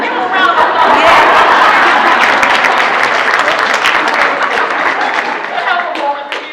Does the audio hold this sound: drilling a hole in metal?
no